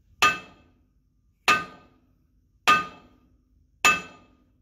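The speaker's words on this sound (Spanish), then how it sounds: "lo que tenemos que hacer es agarrar un martillo, así como este, para golpearlo hasta que salga" A hammer drives a wheel stud out of a Freightliner Cascadia truck hub with four sharp, ringing metallic blows, evenly spaced about a second apart, each decaying quickly into silence.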